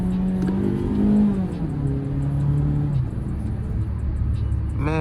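Car engine revving and accelerating, a strong low rumble climbing in pitch then dropping back, close and loud throughout with a brief rise at the end.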